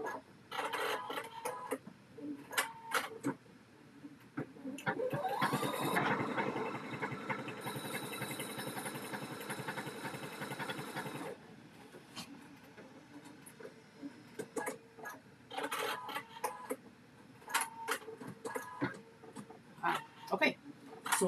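An embroidery machine stitches on a onesie, a rapid mechanical clatter that runs steadily for several seconds mid-clip, while short bursts of machine noise and a person talking fill the stretches before and after.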